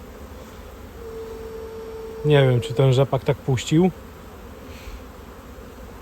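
A steady, dense drone of honey bees swarms in a frenzy at the hive entrance in the afternoon as young bees take orientation flights; someone speaks briefly in Polish over the continuous buzzing.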